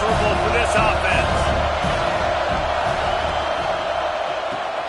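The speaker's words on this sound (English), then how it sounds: "When you go on the road, man, oh man, you love hearing the crowd." A stadium crowd roars at a Utah college football game against Georgia Tech, a dense, steady wall of noise throughout with voices talking over it.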